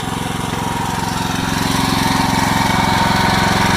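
A truck engine runs steadily with a loud, rhythmic, pulsing rumble and a slight rise in level, while the steering is set up on a Faymonville Megamax or Multimax trailer.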